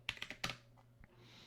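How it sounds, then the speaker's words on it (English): A few quick, light keystrokes on a computer keyboard typing a password, close and quiet, followed by silence. "And we'll type in my password."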